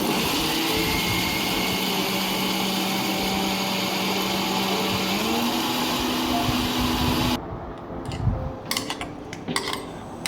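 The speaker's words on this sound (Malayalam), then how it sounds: "തിളപ്പിച്ച വറ്റൽമുളക് വെളുത്തുള്ളി എല്ലാം ചേർത്ത് നന്നായി അരയ്ക്കുക" A mixer grinder whirs steadily for about seven seconds as it grinds boiled dried chillies, garlic and salt for a red chutney. Its motor pitch rises partway through, then it stops and a few jar clatters and handling knocks follow.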